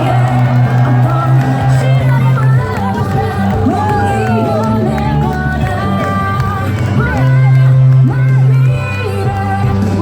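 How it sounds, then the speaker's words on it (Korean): A large outdoor political rally crowd roars with cheering, whoops and applause, a loud sustained din of voices swelling and easing, with a tonal announcement-like sound rising above the crowd at moments. "한동훈 위원장에게 다시 한번 큰 박수 부탁드립니다"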